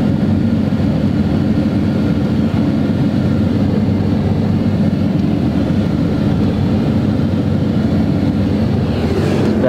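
A 1999 Dodge Ram with a Cummins diesel engine idles and rumbles while turning around, a steady low, loud drone heard close up with no voices.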